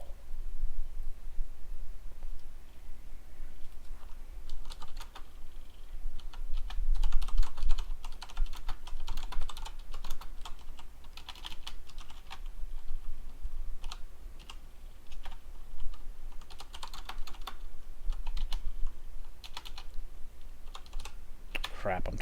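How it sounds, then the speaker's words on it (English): Rapid clicking of computer keys in uneven bursts, close up and continuous, with faint background noise underneath. "I'm typing and missing what's going on."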